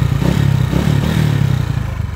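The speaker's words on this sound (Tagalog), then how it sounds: "maingay din yung makina niya" A motorcycle engine with noisy timing gears idles loudly and close, its steady chugging beat overlaid by a rapid metallic clatter that never lets up.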